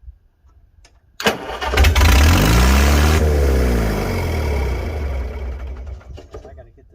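A 1955 Farmall 300 RC tractor with a straight pipe cranks and catches, roaring into a loud, rough, throbbing run that revs up and then gradually settles, close by; faint talk is heard at the start.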